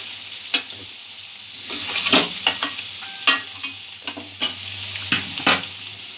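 Vegetables fry in a pan for crispy noodles, a steady soft sizzle punctuated by repeated sharp scrapes and clacks of a spatula stirring, close and without talk.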